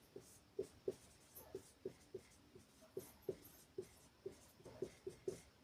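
A pen writes out a Class 10 height-and-distance math solution: quiet, regular scratchy strokes and taps in a steady rhythm, close by and faint, with no talking.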